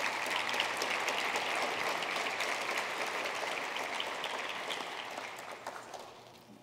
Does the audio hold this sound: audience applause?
yes